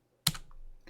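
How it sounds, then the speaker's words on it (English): A computer keyboard key is pressed once with a crisp, close click, followed by a fainter second tap about half a second later. "we're going to press the letter Z"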